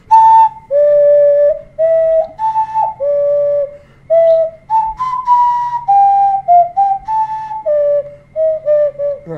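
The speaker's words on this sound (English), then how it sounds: "That's an ocarina." An ocarina melody plays in the video game Starbound: a pure, whistle-like tune of many short and held notes moving up and down, loud and steady with a low hum underneath and no speech.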